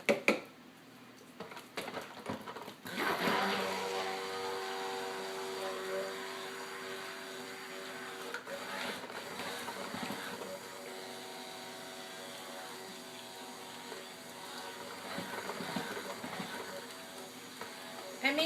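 Batter or frosting being stirred in a mixing bowl for lavender-decorated baked goods, with soft scraping and squishing sounds that come and go over about eighteen seconds, close by, and no talk.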